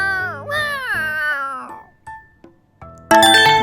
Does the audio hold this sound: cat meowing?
yes